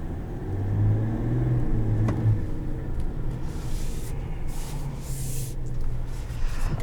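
A 2020 Chevrolet Silverado 1500 RST Duramax diesel pickup cruising on the road, with a steady low engine and road rumble heard from inside the cab, moderately loud and continuous.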